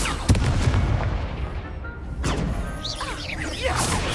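A Confringo fire-blast spell from the Hogwarts Legacy video game bursts with a sharp explosive crack, followed by a rolling boom and whooshing debris under a dense, loud game soundscape.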